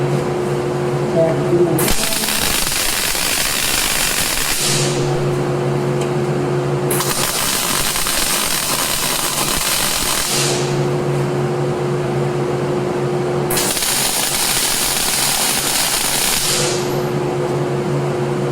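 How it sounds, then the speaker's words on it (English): A steel grid is welded in a shop: three long bursts of harsh, crackling arc noise, each several seconds, separated by a steady electrical hum, close and loud. "Now we just gotta weld it all together."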